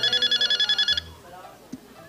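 Rapid, pulsing electronic telephone rings play loudly for about a second, then stop abruptly, leaving quiet room sound with a faint voice and a single small knock.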